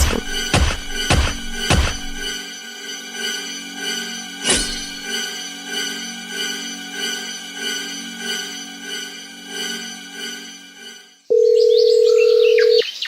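A steady telephone dial tone comes in clearly and alone near the end, after a stretch of rich sustained musical tones punctuated by a few sharp thumps.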